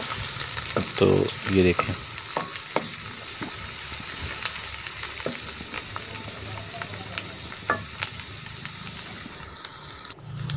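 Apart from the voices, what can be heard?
onions frying in ghee being stirred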